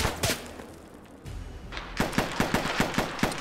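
Gunfire in the video game ArmA 3, with a couple of early shots, a short lull and then a rapid, evenly spaced burst of about ten close, sharp reports.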